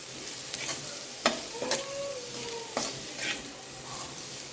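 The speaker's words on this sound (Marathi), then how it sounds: "पुन्हा व्यवस्थित हलवून घ्यायचं आहे मिक्स करायचं आहे" Stirring fenugreek leaves with garlic in a hot pan over a steady low sizzle, with a few sharp scrapes and clicks of a utensil against the pan.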